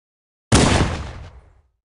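A single loud Halo: Combat Evolved pistol shot sound effect from the video game, a sharp bang with a broad burst that decays quickly over about a second, heard alone with no talking.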